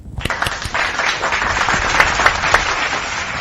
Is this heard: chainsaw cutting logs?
no